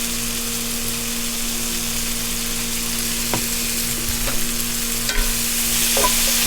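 Butter, salt and pepper are stirred together in a hot pan, giving a constant sizzling hiss over a steady low hum, with a few light utensil scrapes near the end.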